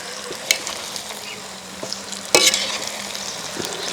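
Chicken being stirred in a pan of dark roasted, ground masala while it fries, for a watermelon dum biryani: a steady close sizzle broken by a few sharp scraping strokes of the spoon.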